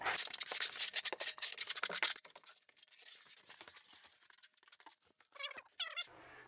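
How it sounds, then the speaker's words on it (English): A trowel scrapes and rubs thinset across a bathroom substrate in quick, close, rasping strokes, dense at first and then sparser, with a few softer smears near the end. "So use the flat side of the trowel first, burn it into the substrate."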